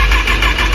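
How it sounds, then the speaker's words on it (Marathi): A four-cylinder 650 super sports motorcycle with a dual silencer, a short loud burst of deep engine rumble at idle, close by and alone. "सुपर स्पोर्ट्स बाईक ही बघा"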